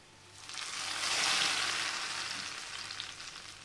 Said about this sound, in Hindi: इस तड़के को हम दाल में लगाते हैं।